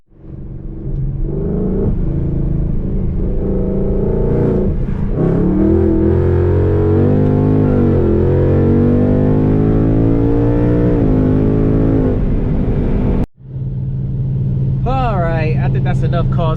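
An S550 Ford Mustang GT in Sport Plus mode accelerating hard, its V8 roaring loudly and rising in pitch through the gears, heard from inside the car. A sharp cut at a shift is followed by the engine climbing again.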